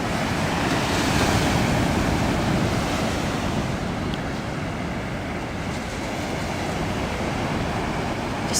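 Sea waves wash steadily onto a beach strewn with seaweed, a continuous broad surf roar with gentle swells and some wind noise on an early morning coastal walk, no voices.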